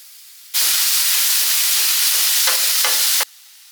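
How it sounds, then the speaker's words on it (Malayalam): Chopped tomato drops into a hot pan of sautéed onion and chilli for a fish curry, starting a sudden loud, continuous sizzle that holds steady with a couple of stirring scrapes, then stops sharply. "ഇനിയിപ്പോൾ തക്കാളി നുറുക്കിയത് അത് ചേർക്കാം."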